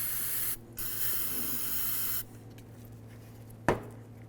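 Spray rinsing of rear brake parts on a 2011-2016 Hyundai Elantra, close steady hissing bursts from a spray can, a short pause, a longer blast, then quiet with a faint sharp tap.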